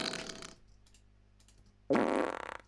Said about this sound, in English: Some farts that I thought were probably a little bit too immature